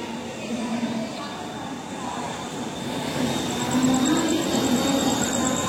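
A train at Dadar station rumbles with a broad, steady roar and metallic rail noise that swells toward the end, with a few faint high squeals riding on top.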